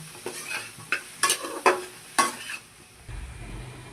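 Spices sautéed with turmeric and cumin powder, stirred hard in a pan with a series of loud scraping and clanking strokes over a soft sizzle, close and with no talking.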